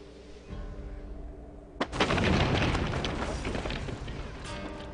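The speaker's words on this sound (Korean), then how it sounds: "뭔 대포 소리가 나지?" A cannon blast in the feudal-Japan strategy game Total War: Shogun 2, set during a castle siege in an Imjin War mod: a sudden loud boom, then a rumbling roar that slowly fades over several seconds.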